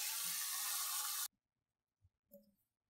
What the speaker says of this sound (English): how much the tap water just cleaned the mold